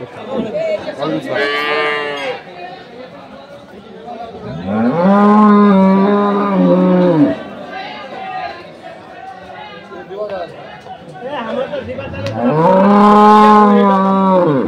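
Dairy cows at a cattle market in Kaharol, Dinajpur moo loudly several times, long drawn-out calls rising over a busy outdoor crowd with people chattering nearby.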